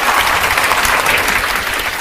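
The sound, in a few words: audience applause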